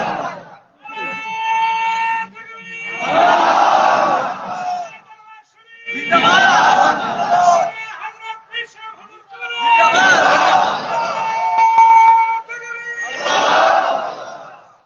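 A large crowd at a Bengali religious gathering shouts back in loud, repeated bursts answering a takbir call, four swelling waves of massed voices with brief pauses between.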